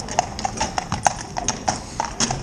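Grey Gelderlander horse's hooves clip-clopping in a steady, even rhythm at close range, the sharp knocks standing clearly over faint background noise.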